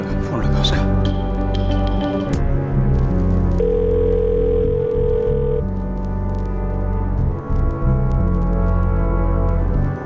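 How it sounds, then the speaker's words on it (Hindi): A telephone call ringing out on a phone in a TV crime drama, a steady electronic tone heard under music and voices, with a sustained pitched beep in the middle of the scene. "रिंग जा रही है"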